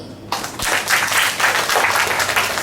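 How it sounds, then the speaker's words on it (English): Applause from an audience at a school declamation competition follows a speech, a sudden burst of many hands clapping that stays loud and steady throughout. "Let's give him some applause."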